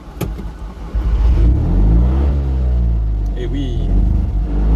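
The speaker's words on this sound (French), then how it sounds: "pour allumer le moteur, on a ici 2 petites manettes, avec là, le starter, qu'on va baisser parce qu'elle est chaude là, et puis le démarreur" A 1971 Fiat 500's small engine cranks on the starter and catches, settling into a loud, close, buzzy idle under brief speech.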